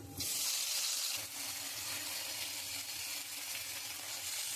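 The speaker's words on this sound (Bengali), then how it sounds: "আমি আলু আর সজনে ডাঁটাটা একসঙ্গে একটু ভেজে নেবো।" Potatoes and drumstick pieces frying in oil with black cumin seeds in a wok, a loud, steady sizzling hiss that runs continuously without pause.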